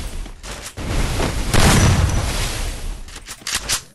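Gunfire in a shooting video game: dense bursts and booms run for several seconds, loud and close, swelling in the middle and trailing into a few sharper shots at the end, with no talk.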